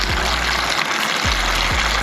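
Water runs steadily into a bucket as it fills, a constant broadband rush heard close by, with a few low thumps underneath.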